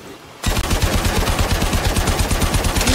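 Automatic gunfire in the video game Warframe bursts in abruptly and keeps hammering loud and close in a fast, even stream of shots, with no voices over it.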